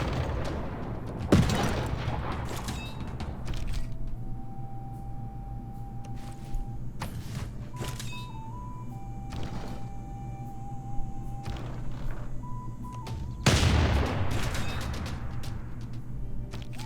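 Musket and cannon fire in a Civilization VI battle, with scattered booming shots and sharp cracks at irregular intervals. Short game tones and chimes sound between the shots, and no one speaks.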